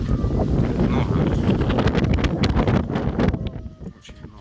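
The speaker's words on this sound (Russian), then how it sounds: "Ветер душит просто пипец." Strong gusty wind buffeting the microphone outdoors in Rostov region during a pigeon flight session, with gusts up to 20 metres per second, a loud continuous roaring rumble that surges and briefly eases near the end.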